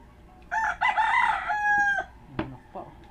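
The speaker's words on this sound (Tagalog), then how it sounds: "May manok pa, oh." A rooster crows once, a loud drawn-out call rising and falling, followed by a few short clucks and faint background noise.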